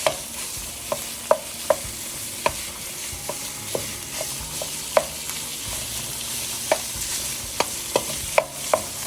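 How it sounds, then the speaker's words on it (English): Ground beef sizzles steadily in a pan with onions while a spatula breaks it up, striking the pan in sharp, irregular taps and scrapes every second or so over the continuous frying hiss, no voices. "you want to quickly break down the ground beef"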